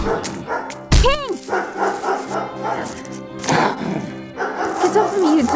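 A dog in a toy horse and wolf story barks sharply and whimpers close by, a yelping burst standing out early, while voices talk throughout.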